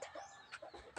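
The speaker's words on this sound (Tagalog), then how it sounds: "Kaya po yung mga manok namin. Manok." Chickens at a home give soft, quick clucks in short separate bursts, fairly faint and close, with no talk.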